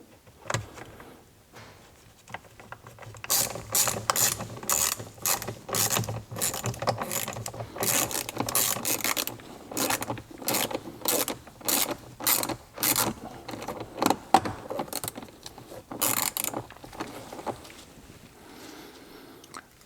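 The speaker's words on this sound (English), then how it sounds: "Put the screws back in." A ratchet clicks in quick repeated bursts as screws are driven back into an interior cabin panel of a Gen2 Ford Raptor truck, each run a rapid sharp rattle, the bursts separated by short pauses, close and without speech.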